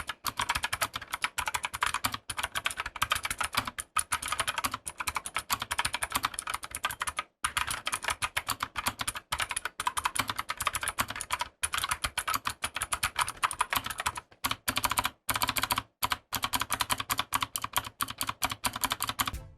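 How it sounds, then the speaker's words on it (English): Fast, steady typing on a GK61 budget 60% mechanical keyboard fitted with Gateron blue optical switches, a dense run of close, crisp clicky keystrokes with a few brief pauses between bursts. "the keyboard that I received had Gateron blue switches, so let's go ahead and type with this and see how it sounds"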